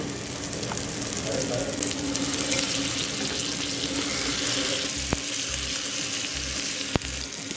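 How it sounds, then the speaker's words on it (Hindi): Desi ghee poured over a paratha on an upturned tawa, a steady close sizzle and crackle with a couple of sharp metallic clicks near the end. "ये देसी घी जा रहा है ऊपर से।"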